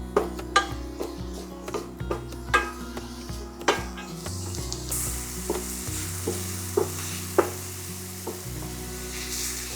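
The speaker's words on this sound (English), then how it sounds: "So the first thing to do is just to soften the vegetables." Vegetables sizzle steadily in a hot pan while a utensil stirs them, with repeated clinks and scrapes against the metal throughout and no talking.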